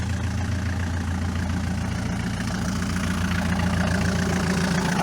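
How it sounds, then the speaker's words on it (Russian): Homemade tractor engine pulling steadily in second gear, a continuous low, throbbing diesel drone with a rhythmic knock, close and loud throughout with no talk. "И вот сейчас трактор на второй едет без напряга."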